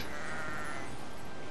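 Sheep bleating in the Magicka video game, a close, loud, wavering bleat that fills the short moment on its own.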